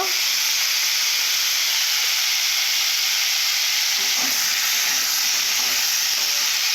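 Vegetables with salt sautéing in a pan for a rui fish curry, a loud, even hiss of frying with a few soft stirring scrapes partway through.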